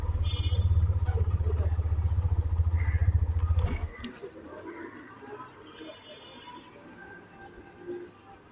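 A motorcycle engine idles loud and close as a rideshare bike is turned around on a street in Bangladesh, then cuts off after about four seconds, leaving quieter street background with faint voices.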